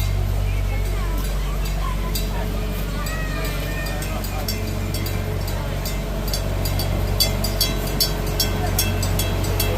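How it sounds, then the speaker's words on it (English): A small park train at Gatorland crosses nearby with a low steady rumble and engine drone, accompanied by scattered clicks and rattles, while outdoor crowd noise and faint voices carry through the background. "that's the short train here at Gatorland, which can take you go around inside the park. Train is crossing."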